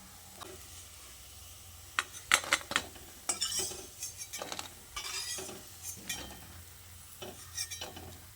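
Freshly fried moong dal fritters lifted from hot oil with a metal spoon, bringing sharp scrapes and clinks against the pan over a low steady sizzle, in several separate bursts without speech.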